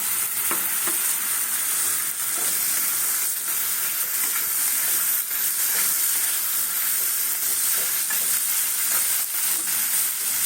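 Meat added to a hot pan for Mughlai paratha filling sizzles and fries loudly, a dense, steady crackling hiss that stays close and unbroken without any speech.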